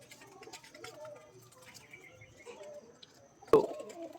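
Sylheti pigeons coo softly and intermittently at close range in a quiet space, and a sharp knock cuts in near the end.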